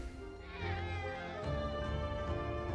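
Cats meow in a Final Fantasy VII Rebirth game scene, giving a few whiny, drawn-out calls over a steady ambient bed of game music and background sound.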